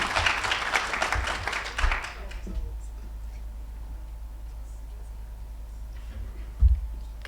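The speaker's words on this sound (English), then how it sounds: "let's give them a good round of applause" An audience applauds student speakers at a youth speak-out event, a dense burst of clapping that fades out after about two seconds into quiet room noise, with a brief thump near the end.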